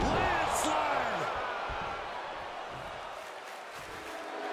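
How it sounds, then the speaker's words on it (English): Roaring arena crowd in the WWE 2K22 wrestling video game during a Nakamura vs Dijakovic match, a loud sustained wall of cheering with a few thuds early on, fading slightly over the clip. "The sound of this crowd is deafening, and he's asking for more."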